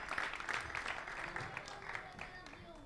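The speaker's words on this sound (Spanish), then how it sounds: "no dudéis en aplaudir" Applause from spectators at a line-following robot racing competition, quiet and somewhat distant, with a steady patter of clapping that slowly fades.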